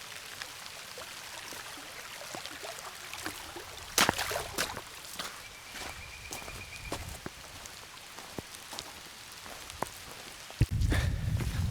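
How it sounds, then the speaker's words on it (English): Light rain patters softly and steadily in a quiet stretch of Wayne National Forest at Wildcat Hollow. A few close knocks and rustles interrupt it, and there is a louder shuffle at the end. "It's raining."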